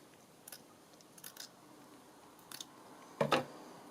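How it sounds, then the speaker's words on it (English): Scissors snip a strip off the side of a check-patterned paper or fabric piece in a quiet room, a few faint scattered snips followed by one louder, sharper cut near the end. "I'll just cut this bit off the side here."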